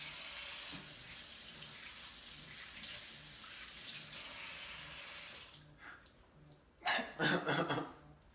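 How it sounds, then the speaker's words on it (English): Running tap water during handwashing in a kitchen, with a broad steady wash of flow through most of the stretch, then a few louder splashy bursts near the end as hands move under the stream. "Wash your hands."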